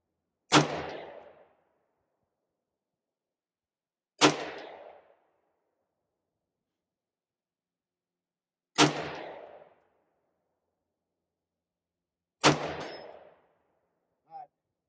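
A Springfield Armory Saint Victor rifle fires four shots at a 100-yard steel target, each a crisp loud crack with a short echo, spaced roughly four seconds apart, and a fainter metallic ping answers at the very end.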